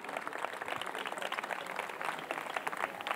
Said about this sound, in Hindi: इनके लिए ताली थोड़ा जोर से बजाइएगा